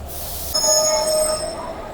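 A train at Rajbandh station, with an abrupt metallic screech from the wheels and sustained high ringing tones that fade gradually, heard close up.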